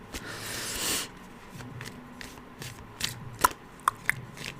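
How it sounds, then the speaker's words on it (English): Tarot cards shuffled by hand during a reading, heard as a soft swelling riffle near the start, then a scatter of light taps and crisp card slaps close by in a quiet room. "that's why I'm just shuffling for a moment"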